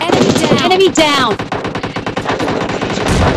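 An M249 machine gun fires in PUBG Lite as loud, rapid sustained bursts of gunfire crowded with other shots and game effects, filling most of the short clip.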